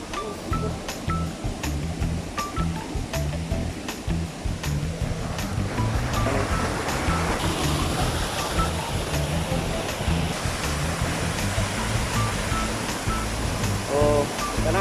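Water pours steadily at a man-made waterfall into a small pool, a continuous loud rushing wash that thickens partway through and holds at full strength, with no voices over it.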